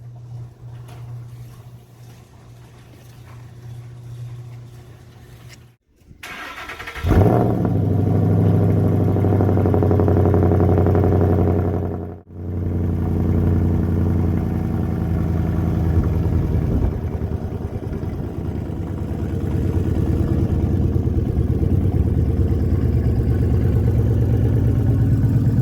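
A 2012 Ford Mustang Boss 302 with SLP Loudmouth sidepipe exhaust and resonator delete, heard through a few seconds of quieter sound, then a loud engine start settling into a deep, steady rumbling idle close by, with one brief dip midway.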